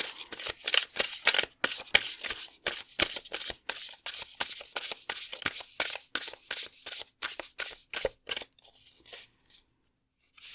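A deck of tarot cards is riffled and shuffled over and over, a brisk rhythmic run of close, crisp flutters that stops near the end and leaves quiet.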